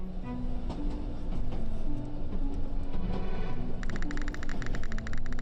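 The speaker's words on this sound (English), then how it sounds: "This is a train." A train rides along in the video game Kill The Clock, a steady loud rumbling rail drone with faint tonal hums throughout, joined near the end by a rapid metallic clicking or rattling pattern; no speech.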